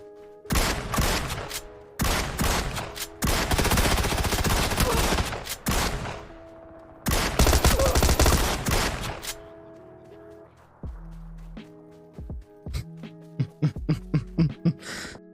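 Shotgun fire in the battle royale game PUBG, with several dense bursts of loud, close blasts separated by short gaps, then a run of sharper single shots and clicks near the end; no speech.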